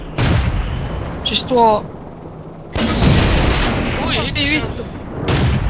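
Tank cannon fire and shell hits in World of Tanks land as heavy, booming blasts, several loud broadband thuds spread through the clip while players talk and exclaim over them.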